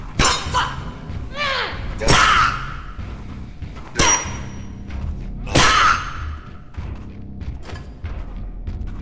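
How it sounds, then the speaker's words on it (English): Weapon breaking in the video game Butcher's Creek, heavy game thuds and shattering impacts with ringing tails, repeated several times over background game sound, with a voice talking. "My weapon broke."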